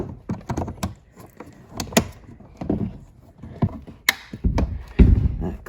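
Kia Soul rear door panel being pressed back into place, a series of sharp plastic clip snaps and knocks scattered irregularly, close and fairly loud, with rustling handling between them and no talk.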